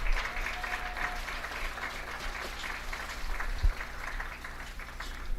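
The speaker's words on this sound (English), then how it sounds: "another round of applause, please, for the 2014 2A state champions." Steady applause from a crowd at a school sports ceremony honouring the 2014 2A state champions, a continuous even patter of clapping that holds throughout at moderate distance with no voices rising above it.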